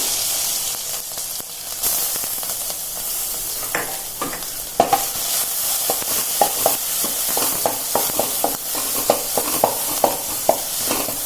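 Steady loud sizzling of crushed garlic frying in hot oil with cumin, with irregular clicks and scraping of stirring throughout; no talking.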